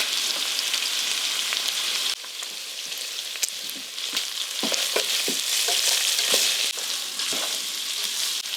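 Chopped onion and three cloves of crushed fresh garlic fry steadily in a soup pot, giving a loud, continuous sizzle with scattered crackles and pops close by, and no voices over it.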